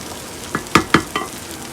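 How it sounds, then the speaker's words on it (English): Rice stirred constantly in a pot over medium-high heat for Southern dirty rice, a few quick scraping strokes against the bottom over a soft sizzle, close and without speech. "I'm just stirring constantly to make sure nothing is sticking to the bottom of my pot"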